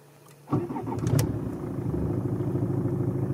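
A Mercedes car's starter motor cranks the engine with a sudden loud burst, and the engine then runs on as a steady, close, rumbling idle.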